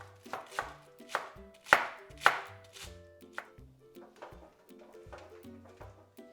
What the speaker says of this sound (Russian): Пару листиков пекинской капусты нарезаю мелко.